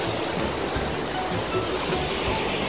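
River water flows through central Rome on a warm summer night at about 10 pm, making a steady, dense rushing wash with no breaks. It is moderately loud and continuous, and no voices are heard over it.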